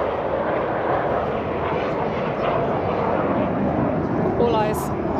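Aerobatic jets fly barrel rolls at the UAE National Day airshow in Dubai, a continuous loud roar of engines throughout with a commentator talking over it.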